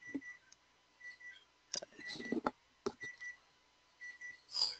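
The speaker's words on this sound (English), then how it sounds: "My timer's going off." A kitchen timer goes off at home with short, faint repeated beeps and tick-like clicks, quiet and a little distant, with no talk over it.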